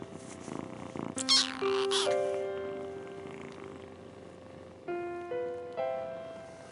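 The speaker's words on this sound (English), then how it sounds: "it's maybe just 2 kittens out of the 6 who are sticking their heads up and meowing" Several high, thin meows from a litter of six small kittens, a cluster early on and a few more spaced out later, close by with a soft purring hum underneath.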